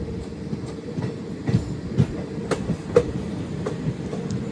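A train on the Kashmir to Kanyakumari journey rumbles steadily with rhythmic clickety-clack wheel beats over the rails, heard from inside at moderate loudness, no talk.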